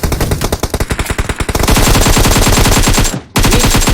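AK rifle fire in a competitive video game match, loud rapid bursts that run into a sustained roar of automatic shots, break off for a moment, then resume.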